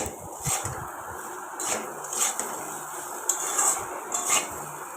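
Potatoes and soybean chunks being stirred with turmeric and salt in a pan, with a spoon scraping and clinking against the metal in irregular strokes, close and moderately loud, no talking.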